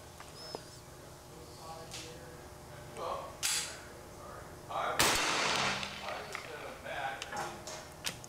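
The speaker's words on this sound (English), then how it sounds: "Second shot, right on top of the first shot." Less lethal bean bag round fired at a target, a sharp loud blast with a noisy tail standing out over a quiet outdoor background, with a few smaller knocks and someone talking around it.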